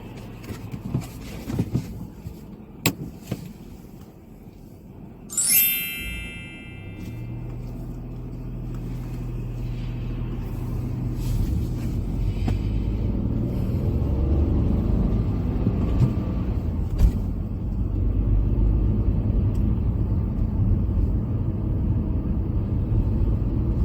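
A car drives along a road on a mock driving test around Chertsey, its low engine and tyre rumble rising and holding steady after a few clicks and a brief mechanical whine.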